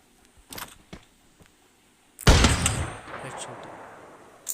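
Gunfire in the mobile game Free Fire sounds as a sudden loud blast that trails off into a rumbling decay, preceded by a few light clicks.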